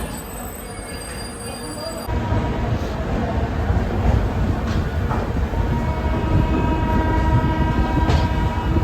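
The Mithila Express train pulls out of Raxaul station in Bihar, its horn sounding over a steady rumble of rolling wheels and carriages that grows louder after the first couple of seconds.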